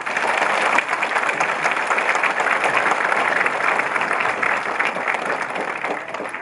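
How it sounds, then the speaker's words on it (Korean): A lecture audience at the 2015 Jecheon citizen academy breaks into sustained, dense applause that stays loud and even for several seconds, fading slightly at the end. "이종찬 이사장님께 다시 한번 뜨거운 박수 부탁드립니다"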